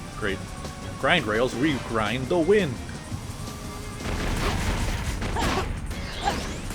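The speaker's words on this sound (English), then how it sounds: "Instead of grind rails, we grind the wind." Sonic grinding along a current of wind in Sonic the Hedgehog (2006) makes a steady rushing, hissing drone that rises after a stretch of game voices and keeps going to the end.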